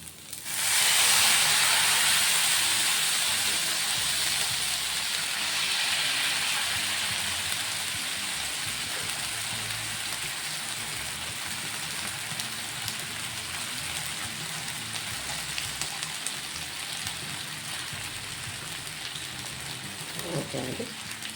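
Rava dosa batter hits a hot pan and sizzles loudly at once, settling into a steady, dense hiss like light rain that slowly quietens over about twenty seconds.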